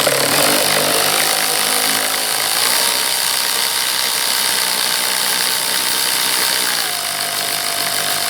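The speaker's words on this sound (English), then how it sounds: "Loosen your clamp using a 10mm socket." A power tool with a 10mm socket loosens the air-intake hose clamp on a 2002-2006 Toyota Camry, a steady loud whirring drone close by that shifts pitch partway through and runs continuously throughout.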